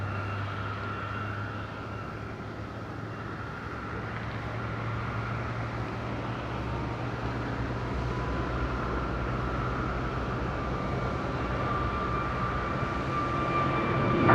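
An EasyJet airliner arriving at Madeira Island Airport gives a steady distant jet roar with a low hum that swells gradually toward the end.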